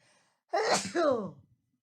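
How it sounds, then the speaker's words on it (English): A single close, sharp sneeze bursts out of near silence, with a brief breathy intake just before it. "Hold on, about to sneeze"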